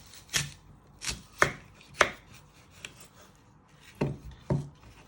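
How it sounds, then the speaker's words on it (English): Knife chopping apples on a board for a pork and apple tray bake: seven sharp, distinct chops in an uneven rhythm, close and fairly loud, with a pause before the last two. "So you're first going to chop it down the middle."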